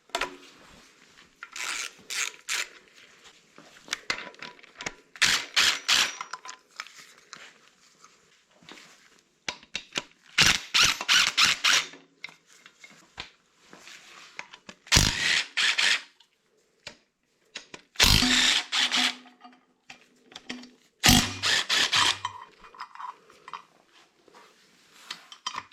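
Ratchet working a tensioner pulley bolt on a 7.3 Powerstroke diesel engine, in several short bursts of metallic clicking and scraping separated by quiet gaps, close and clear with no talking.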